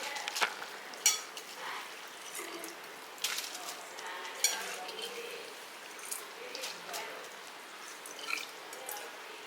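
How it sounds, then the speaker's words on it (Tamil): Coconut milk simmering in a pot with soaked rice just added, giving soft continuous bubbling and scattered drips and splashes, fairly faint, with occasional brief stirring clatter. "இப்போ தேங்காய் பால் வந்து நல்லா கொதிக்குது"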